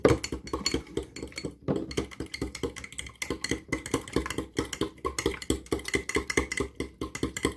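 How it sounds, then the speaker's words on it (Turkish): A utensil clinks and scrapes rhythmically against a bowl as an aloe vera hair mask mixture is stirred steadily and briskly, close up, with no talking. "Ve karıştırma aşamasına geçiyorum."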